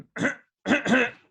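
A person coughs two or three times in close succession, rough and throaty, with short silences between bursts.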